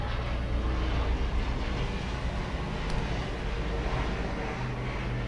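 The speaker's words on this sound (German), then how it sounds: "Das war gerade ein Flugzeug." An airplane flies overhead as a steady, broad low rumble that holds at an even loudness throughout, with no voices.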